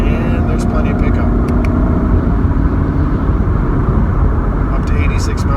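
A 2017 Camaro RS V6 accelerates on the road, a loud steady engine drone and wind roar from inside the cabin, with a few faint ticks over it.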